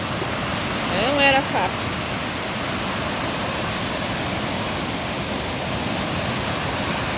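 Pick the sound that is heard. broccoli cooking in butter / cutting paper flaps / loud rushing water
loud rushing water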